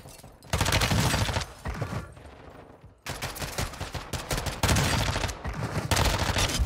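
Warzone battle royale match with the AMAX assault rifle: repeated rapid bursts of loud automatic gunfire, close and sharp, separated by short gaps of quieter ambience.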